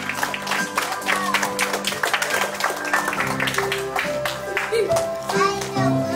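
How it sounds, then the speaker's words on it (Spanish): Applause and clapping ring out at a quinceañera party in Salt Lake City, mixed with children's voices and music in a busy hall, steady and fairly loud throughout. "fuerte el aplauso también, que se escuche fuerte"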